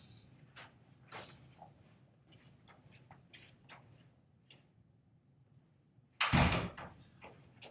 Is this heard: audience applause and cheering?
no